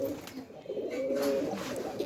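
A pigeon coos in low, rolling bursts close by, soft but clear, repeating over a couple of seconds with a quiet hiss behind it.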